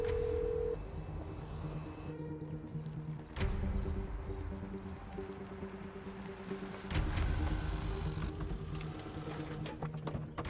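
A telephone call being dialed and ringing in a French action film: steady electronic tones sound in repeated bursts over a low background hum, with no voices.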